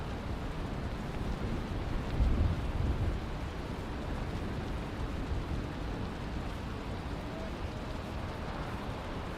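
Steady rain hisses in a stormy outdoor scene in the survival video game Valheim. A low rumble of thunder swells briefly partway through, and the wash of rain continues evenly throughout.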